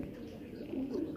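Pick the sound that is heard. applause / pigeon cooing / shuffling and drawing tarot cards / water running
pigeon cooing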